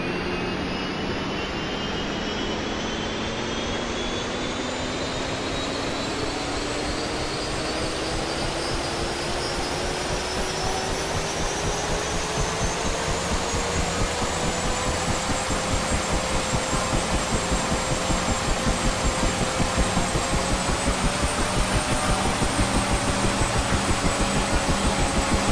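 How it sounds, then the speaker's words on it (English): A UH-1H Huey helicopter in DCS World whines through engine start and rotor spin-up: a steady, loud turbine roar whose tone climbs gradually over the whole stretch, with a rising rhythmic thump building underneath. "The helicopter will toss you around quite a bit as the rotor spins up."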